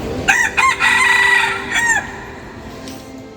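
A rooster crows loudly and close by at Batu Caves near Kuala Lumpur, giving one full cock-a-doodle-doo followed by a shorter second call, with faint ambient noise beneath.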